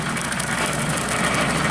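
A tractor engine held steady by a governor runs a 15 ft Woods brush hog mowing a golf course, producing a loud, continuous low engine drone with broadband mechanical noise and no speech.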